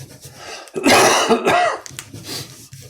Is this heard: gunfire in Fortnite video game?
no